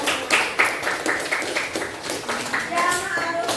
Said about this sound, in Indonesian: Oke, tepuk tangan untuk kelompok 6.